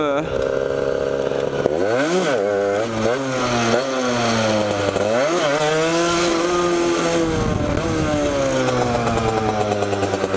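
Motorcycle engine revving hard and close during wheelie practice on a solo ride, its pitch surging up and dropping back repeatedly in uneven bursts.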